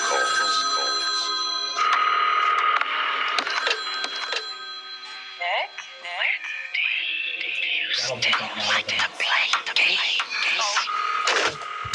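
An old-style telephone bell rings in bursts and layers with other phones, then gives way to busy chatter and tonal sounds, with voices talking over the ringing.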